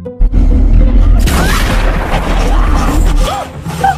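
A gunshot sounds in a film scene as a deep, heavy boom. Rumbling and scattered noise follow for a few seconds, with faint voices in the background.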